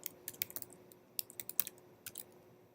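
Quiet clicks of a computer keyboard being typed on, in short uneven bursts of keystrokes with pauses between, close but faint, with no talking.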